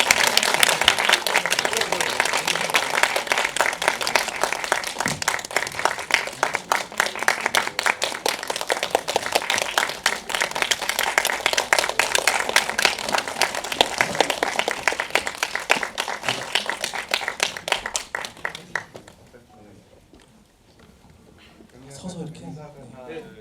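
A film screening audience claps for the director and cast arriving for a Q&A, a long, loud, dense round of applause lasting nearly twenty seconds before it breaks off, followed by brief murmuring.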